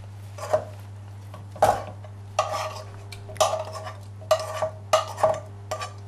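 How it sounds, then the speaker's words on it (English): A spoon stirs cooked mushrooms into a cheese sauce in a pot, giving several separate scraping and clinking strokes against the pan over a steady low hum, close by and with no talking. "So I'm going to add my mushrooms to the cheese sauce."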